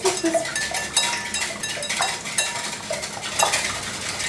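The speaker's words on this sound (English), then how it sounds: "in my bowl here, I am going to add my eggs. I'm going to whisk those together." Eggs being whisked in a bowl for savory cornbread batter, giving a steady run of light metallic clinks and scraping taps against the bowl, close and moderately loud with no talking.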